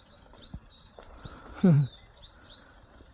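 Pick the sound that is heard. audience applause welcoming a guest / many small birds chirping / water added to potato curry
many small birds chirping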